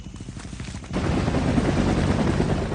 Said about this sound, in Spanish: Los helicópteros ya estaban descargando a la segunda tanda de soldados.